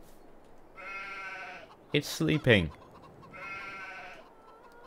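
Sheep in Farming Simulator 22 bleat in two drawn-out, wavering calls, close and clear, with someone speaking briefly between them.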